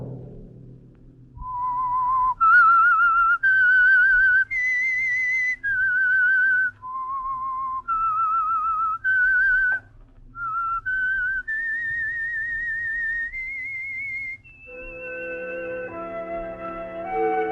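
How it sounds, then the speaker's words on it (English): A lone whistler performs the eerie signature tune of the old-time radio mystery program The Whistler, a slow, clear melody of sustained notes close and loud, ending as orchestral music enters. "Let that whistle be your signal for the Signal Oil program, The Whistler"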